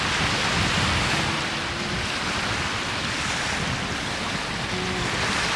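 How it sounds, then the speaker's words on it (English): Small waves lap at a little lakeside beach in an Ontario provincial park, a steady close wash of water mixed with wind noise. "It has its own nice little beach."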